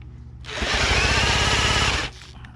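A power drill whirs loudly and steadily for about a second and a half, cranking a hard-starting 1940s Johnson Seahorse KD15 outboard boat motor, then cuts off abruptly.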